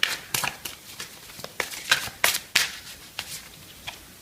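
A message card is drawn from a card deck, and a series of sharp, papery flicks and slaps comes close to the microphone in an uneven rhythm of about a dozen quick strokes, with no talking.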